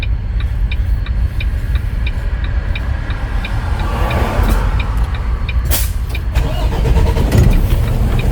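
A semi truck's diesel engine restarts after an idle shutdown, rumbling loudly and steadily throughout with a faint repeating ticking chime above it and a brief hiss of air near the end.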